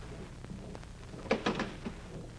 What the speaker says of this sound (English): Well, open the door.